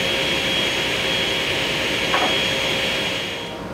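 A table saw runs through 3/4 inch maple panels with a loud, steady, close whine that holds level and eases off slightly at the end.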